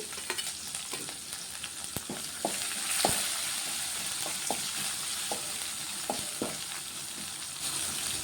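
Chopped onions, green chillies and curry leaves fry in a pan for upma, a steady close sizzle broken by several sharp stirring scrapes and clicks, with no voice.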